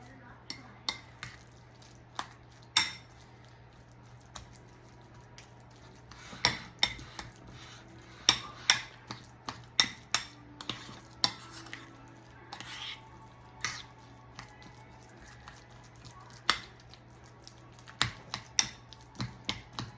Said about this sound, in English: I'll just keep mashing it really good until it's the consistency that I like